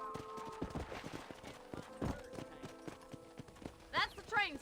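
Horse hooves clip-clop steadily in the Red Dead Redemption western game, a rhythmic run of close, moderately loud hoofbeats with a voice speaking over them and a brief whinny-like call near the end.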